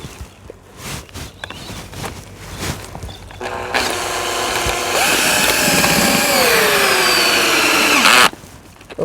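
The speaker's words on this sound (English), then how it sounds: "People using drills to wind down their legs" A cordless drill winds down caravan legs, starting after a few clicks and footsteps, then whirring loudly and steadily for several seconds before cutting off abruptly.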